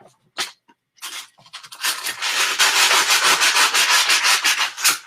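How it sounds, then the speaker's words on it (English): Wet sanding of quartz to remove excess dried glue, heard as steady close rubbing and scraping strokes that start in short bursts and then settle into a continuous rhythmic grind. "I can give this quartz a wet sanding and get all the excess off right here"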